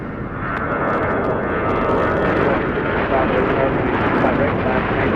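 An airliner taking off from runway 25 right at LAX, a steady broad engine roar holding at a constant level throughout, with faint radio chatter running beneath it.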